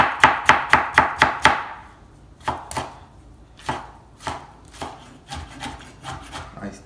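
A knife chopping tomato on a cutting board for shrimp ceviche: a rapid burst of six sharp chops, then slower, scattered cuts, close and crisp with no talking.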